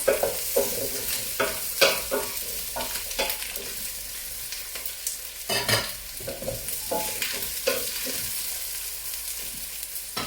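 Pumpkin pieces sizzle and fry in a pot, with a steady hiss broken by repeated scraping and stirring strokes, close and moderately loud with no talking.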